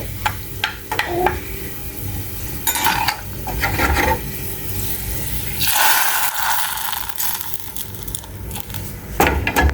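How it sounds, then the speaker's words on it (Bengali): Hot spice tempering is poured into simmering lentil dal with a sudden loud sizzle that flares midway, amid stirring and clinks of pots and utensils, close by with no speech. "ডালে ফোড়ন দিয়েছি ছাত করেছে"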